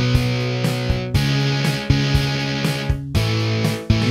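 Heavily distorted electric guitar with the overdrive turned up in GarageBand, playing sustained chords with repeated strums, thick and buzzy, played alone at a steady loud level.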